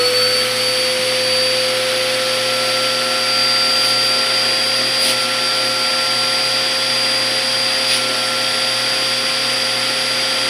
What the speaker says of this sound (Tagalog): Gagamit kayo ng vacuum. I-vacuum nyo yung air na nasa loob.